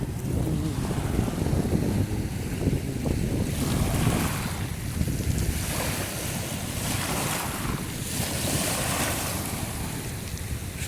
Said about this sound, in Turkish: Dalgaların sesini dinleyin arkadaşlar